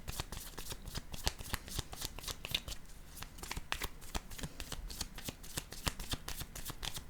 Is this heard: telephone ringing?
no